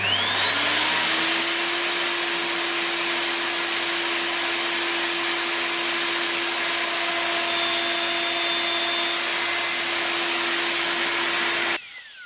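A router on a WoodRat jig spins up and cuts into wood with a loud, steady high-pitched whine that holds for about ten seconds before stopping abruptly; no voices.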